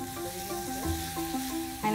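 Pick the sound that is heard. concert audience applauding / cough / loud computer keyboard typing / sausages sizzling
sausages sizzling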